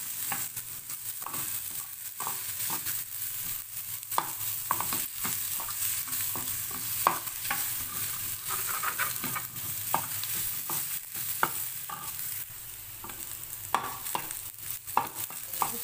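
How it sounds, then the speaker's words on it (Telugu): Ginger garlic paste frying in a pan, a continuous close sizzle with repeated scraping stirs and light clinks, no voices. "మనం అల్లం వెల్లుల్లి పేస్ట్ వేసాం కదా, అది కామన్ కలుపుకుంటూ ఉంటుంది, ఏం పర్లేదు, అలాగే ఫ్రై చేసుకోండి"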